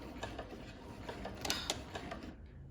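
A sewing machine tacking a stitch on appliqué pieces, a quiet close mechanical chatter of small clicks and ticks over a soft motor hum that cuts off near the end.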